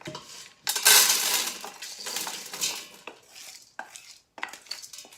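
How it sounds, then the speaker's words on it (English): Rinsed dried beans, a pantry mix with black-eyed peas and white beans, pour into a cooking pot with a loud rattling rush, then scattered clinks and patters as the last beans tumble in and settle. "These are all rinsed and they're going in my pot"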